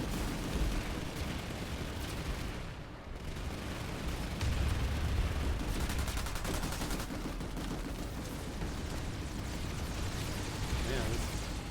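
Rapid gunfire from the Planetside 2 video game, firing without aiming down iron sights in a large-scale space battle; dense, continuous bursts of shots and blasts fill the whole stretch at a steady, loud level.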